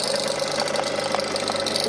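Electric motor on a farm, running steadily after being switched on; a fairly quiet, even hum with slight rhythmic knocking and no voices over it.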